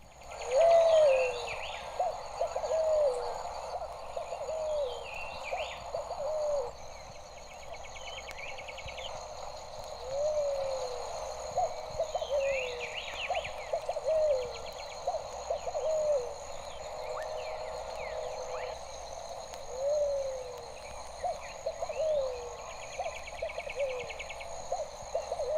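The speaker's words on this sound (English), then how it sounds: "The low, sonorous tones of the red-billed pigeon swell out from the woods." A red-billed pigeon calls from woodland, its low, sonorous cooing phrases repeating at steady intervals over a constant insect and forest background, moderately distant and clear.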